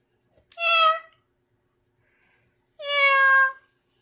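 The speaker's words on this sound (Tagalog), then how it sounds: "Meow." A female cat in heat meows twice, close and clear, each meow under a second long with a pause of about two seconds between them.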